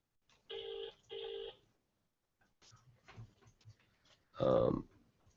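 Two long electronic telephone rings in quick succession, fairly clear, followed by soft rustling and a short burst of louder sound.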